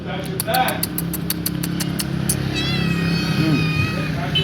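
A stray street cat in Egypt meows several times, fairly close, against steady street noise with passing engines and a person talking nearby.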